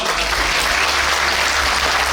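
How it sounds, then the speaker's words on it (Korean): Sustained, dense applause from an audience in a National Assembly hall during a reunification rally, steady and loud across the whole moment with a low hum beneath. "여러분 다시 한번 큰 응원의 박수 부탁드립니다"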